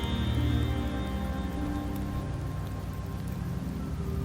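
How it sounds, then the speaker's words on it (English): Steady rain falling in the rainy Septimont area of the video game Wuthering Waves, a continuous even patter layered over low ambient game music, with no voices. "The rains in Septimont never seem eager to leave this season."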